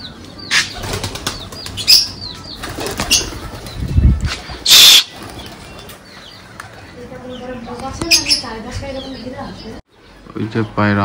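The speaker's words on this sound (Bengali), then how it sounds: "ওই যে পায়রা আমাদের অনেকদিন পর উড়াবো দেখি।" Pet pigeons released at a home in Bangladesh burst into flight with loud flapping wings in a few quick flurries, while people talk nearby.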